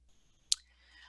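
One sharp, close computer mouse click stands alone over faint electronic hum, with a light whine lingering afterward.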